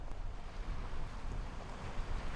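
Wind-driven waves on Keogh Lake, steady rushing wind noise over lapping water with gusty surges, loud and continuous without any talking.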